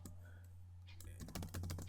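Typing on a computer keyboard starts after a near-silent moment, rapid close keystrokes entering text into a PowerPoint slide over a low steady hum.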